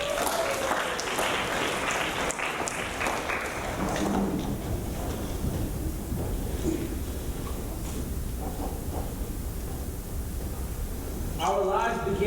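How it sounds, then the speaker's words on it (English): A live audience gives a round of applause after a stage performance, broad dense clapping that thins and fades toward the middle before a brief burst of other sound near the end. "Give him a big round of applause."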